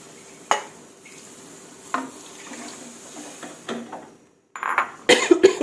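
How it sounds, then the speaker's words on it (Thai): Canned fish tipped into a pan with spring onions and greens: scattered clinks and scrapes of a bowl and utensils, then a brief pause before a louder, hissing burst as water is poured in. "ปลากระป๋องใส่ลงไปเลย ล้างถ้วยลงไปน้ำค่ะ"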